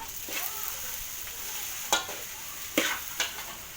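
Semolina roasting in a pan over medium-low flame, stirred with a spoon: a steady soft dry hiss broken by a few sharp scraping strokes, close and without talk.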